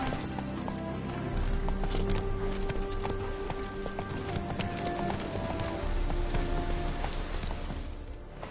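Hooves pound in a steady galloping rhythm as a horse runs in The Witcher 3, continuous and fairly close, with a faint whinny mixed in.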